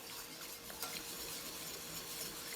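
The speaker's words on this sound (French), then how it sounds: "Et on mélange" Salmon blanquette sauce made with chicken stock is stirred in a pan, a soft steady simmering hiss with light scraping, close and quiet, with no voices.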